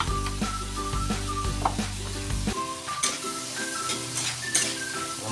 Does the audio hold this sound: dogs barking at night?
no